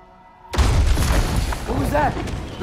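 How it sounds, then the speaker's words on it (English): A bomb detonates in God of War Ragnarok with a sudden loud boom, followed by a sustained rumbling roar while character voices shout over the din. "The bomb!"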